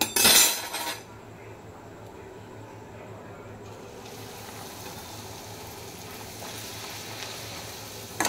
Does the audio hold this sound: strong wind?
no